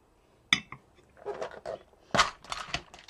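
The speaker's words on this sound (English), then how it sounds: "I'm going to have another sip of coffee." A coffee cup gives a few soft clinks and knocks while someone sips coffee at a card-making craft table, the sounds quiet, close and irregular.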